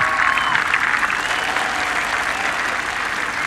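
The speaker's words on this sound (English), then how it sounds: "Well-deserved applause for this last group." A golf gallery at Oakmont Country Club during the 2016 U.S. Open applauds the final group, a loud sustained wash of clapping that stays full and steady before easing slightly.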